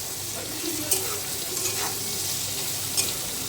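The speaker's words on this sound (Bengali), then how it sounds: "আলু ভাজা হয়ে গেছে, এবার মশলা দিয়ে কষিয়ে নেবো" Potatoes fry with spices in an oil-filled wok, a steady loud sizzle with a few scraping clinks from a utensil as they are stirred, close up.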